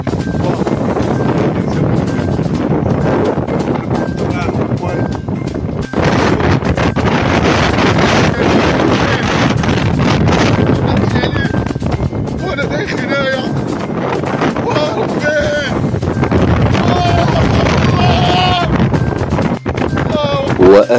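Strong desert wind storm roaring steadily and loudly into the microphone, with heavy buffeting gusts throughout and a voice speaking over parts of it.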